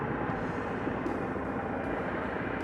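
Harley-Davidson Softail Heritage 114 motorcycle riding at speed, a continuous loud engine drone blended with rushing wind noise, steady with no pauses.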